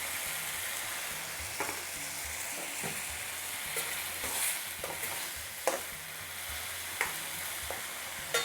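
Chicken balti frying in a pan with a steady broadband sizzle, broken by several sharp clicks and scrapes as it is stirred, close and continuous without any talk.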